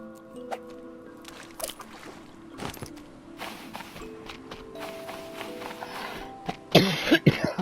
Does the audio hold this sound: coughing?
yes